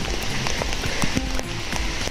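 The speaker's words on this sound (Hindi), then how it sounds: "बारिश चल रही है" Rain falls steadily beside an outdoor swimming pool, a soft continuous patter with scattered close drips and taps, alone and fairly quiet.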